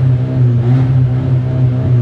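An Audi engine with its exhaust cut down to a straight pipe revs loudly up close, a harsh, steady drone with a brief rise in pitch partway through.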